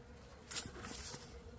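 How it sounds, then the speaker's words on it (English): Honeybees fanning inside a hive after a Varroa mite vapor treatment, a faint buzzing hum with a brief louder burst of wing noise. "The bees, you can hear them, they will start fanning right away."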